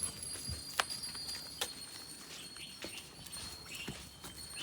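A mare's hooves clip-clop at a walking pace, with a string of distinct sharp knocks spread through the stretch, moderately close, and a faint high metallic jingle in the background.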